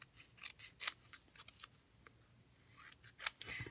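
Scissors snip through paper while a greeting card is being made, with several short, crisp cuts spaced unevenly across the moment, close by and fairly quiet, with no talking.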